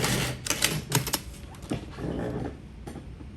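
A sewing machine stitches an invisible zipper, giving a faint mechanical whirr with a few brief bursts of rapid stitching, quiet and steady under low room noise.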